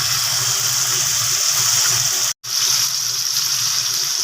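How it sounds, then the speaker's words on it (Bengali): Cashew paste poured into a cooking masala for posto chicken, a steady, close hissing gush that runs almost without a break, cut by one brief silent gap partway through, with no talking. "এবার এর মধ্যে দিয়ে দেওয়া হচ্ছে কাজু পেস্টটা"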